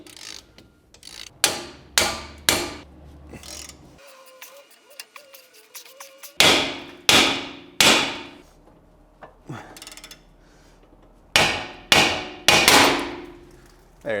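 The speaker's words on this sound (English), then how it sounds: "Now I can't get the air hammer here to knock out this one." Air hammer knocking out a suspension part on a BMW E39 530i Touring, a series of loud, sharp metallic bursts in clusters of two or three, separated by quieter gaps with clinking and a brief whirring tool.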